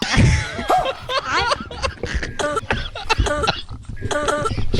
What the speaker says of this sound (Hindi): डॉक्टर साहब इसे खांसी हो गई है